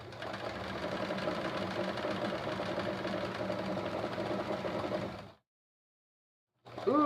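A sewing machine stitching free-motion quilting runs in a fast, steady mechanical whir and clatter, nearby and even, then cuts off abruptly as the bobbin runs out, followed by silence and a brief restart of noise.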